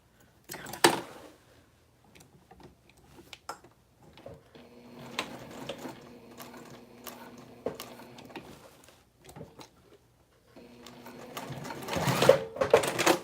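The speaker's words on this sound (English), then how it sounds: "it's sewing up fine now" A crossbody bag being stitched on a sewing machine: close, steady runs of fast rhythmic needle chatter broken by short stops and handling clicks, ending in a louder burst of stitching.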